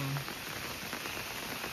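Short stretch of steady rain hissing and pattering in a forest near Kallambi, Soraba, India, with a faint tonal sound at the start and end.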